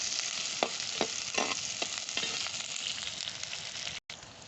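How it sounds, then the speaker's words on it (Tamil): Drumstick leaves sautéing in a pan for egg curry, a steady close hiss of frying with several soft stirring scrapes spaced through it and a brief break near the end. "நல்லா வதக்கிக்கிடணும்."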